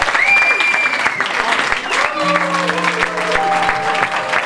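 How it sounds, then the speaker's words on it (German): Crowd applause at a live show greets a surprise performer walking on stage, a dense, steady clatter of clapping with a voice and sustained tones riding over it. "Applaus, Applaus, Applaus."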